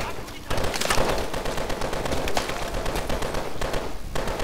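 PKM machine gun fire in Call of Duty Advanced Warfare, a dense, steady stream of rapid gunshots with a few louder cracks, continuing for several seconds over busy battle noise.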